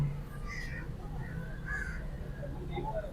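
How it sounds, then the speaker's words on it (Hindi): A cockatoo at Lahore Zoo gives a few harsh, raspy squawks, moderately close amid background murmur and people talking. "ये एक और हमें तोते की किस्म यानी कि बर्ड की किस्म मिली है, काकाटू उसको कहते हैं।"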